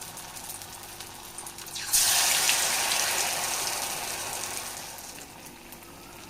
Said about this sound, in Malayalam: നമുക്കിത് തിരിച്ചും മറിച്ചൊക്കെ ഇട്ട് ഫ്രൈ ചെയ്തെടുക്കാം